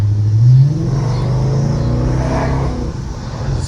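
A car accelerating on the road, its engine revving up to a strong low pull and then holding a steady, loud rumble from inside the cabin.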